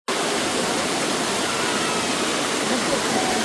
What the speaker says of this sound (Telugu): వచ్చేసాను వాటర్ ఫాల్స్.